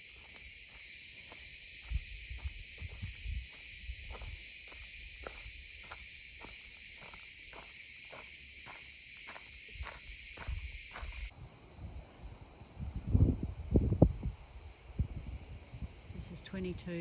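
Cicadas and crickets drone steadily among pine trees, a dense continuous shrill buzz with faint rhythmic pulses, before it cuts away to quieter outdoor ambience with a few soft rustles and brief low voices.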